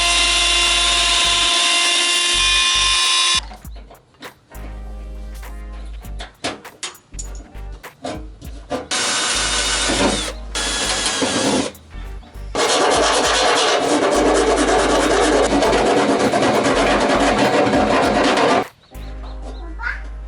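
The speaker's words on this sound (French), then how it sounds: "Et là on va finir à la scie." Loud bursts of rough, buzzing sawing on a Jeep Cherokee XJ part during Bushwacker fender flare fitting come in long stretches, separated by quieter pauses with faint clatter.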